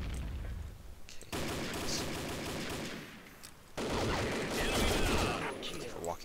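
AK-12 rifle with an extended magazine firing in a video game, two sustained bursts of rapid automatic gunfire, loud and close, separated by a short pause.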